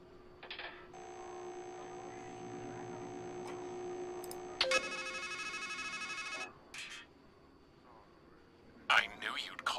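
A payphone on the Blackpool boardwalk in the video game Strangeland, with a steady electronic tone and then a loud rapid trilling ring lasting about two seconds, followed by clicks and brief sounds.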